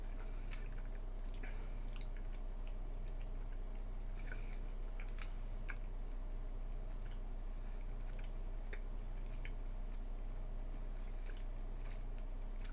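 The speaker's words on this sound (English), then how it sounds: "Now let's just start eating the rest of it together." Someone chews Twizzlers Pull 'n Peel licorice candy up close. The soft, squishy chewing is faint and irregular over a steady low hum.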